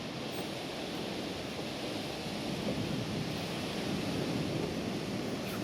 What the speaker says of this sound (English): This wind's blowing.